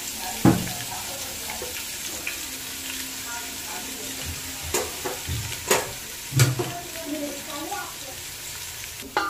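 Ginger and garlic frying in hot oil in a pan, cooked for veg soya biryani, with a steady soft sizzle and a few sharp stirring clatters.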